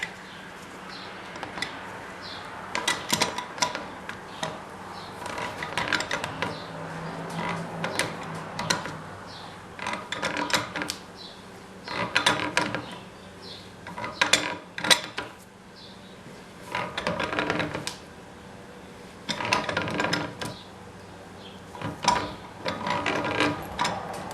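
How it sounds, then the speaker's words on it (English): A ratchet wrench tightens a nut on a salvaged light fixture, giving repeated bursts of close, sharp clicking and creaking mechanical ratcheting separated by short pauses, with no voices. "I can hold on to this, get my wrench."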